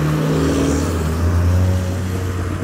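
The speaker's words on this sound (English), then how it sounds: "That sounds just like a Mark VI with a Hornet exhaust." A modified Mark VI car fitted with a Hornet exhaust at a rainy car meet gives a loud, low, sustained engine drone that rises slightly in pitch, close and constant throughout.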